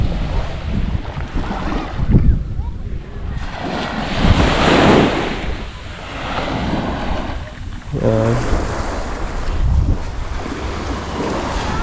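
Ocean waves surge and wash ashore at a beach outing in swelling, rolling crashes under gusty wind buffeting the microphone, with faint voices now and then in the background.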